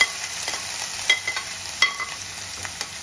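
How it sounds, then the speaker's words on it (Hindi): Garlic fries in a pan for chicken pickle, giving a continuous sizzle broken by sharp crackles and spatula scrapes, close and with no voices. "गार्लिक को फ्राई करेंगे।"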